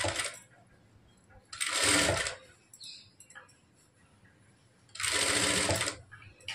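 A sewing machine stitches a plain blouse in two bursts of rapid mechanical whirring, each lasting about a second, with quiet pauses and faint room sounds between them.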